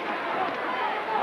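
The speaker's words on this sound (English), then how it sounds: "the crowd get excited" A boxing arena crowd at the November 1988 Donny Lalonde vs Sugar Ray Leonard fight lifts into an excited, sustained roar after a landed jab, a dense wall of voices holding steady throughout.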